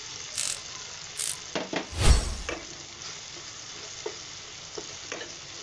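Turmeric powder dropped into a hot frying pan for vegetarian Bengali ghugni gives a low, steady sizzle, with a few scrapes and taps of a spoon against the pan and a brief louder burst in the middle.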